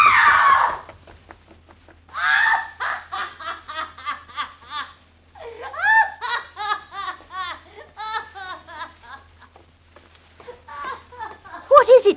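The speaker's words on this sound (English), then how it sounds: "She screamed." A woman's screams in a 1954 radio crime drama, a sharp shriek at the start followed by bursts of high, wavering cries and laughter-like wails, loud and close in a quiet room.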